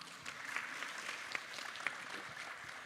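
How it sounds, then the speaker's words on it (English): A steady wash of audience applause at a regional symposium on disaster risk reduction, dense and even clapping from a crowd heard at a moderate distance for the full stretch. "Please welcome Mr. Bhatia with a big round of applause."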